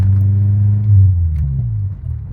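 Old French Renault car driving at a car meet, a loud, close, low engine drone that holds steady, then dips and wavers slightly as the car rolls on.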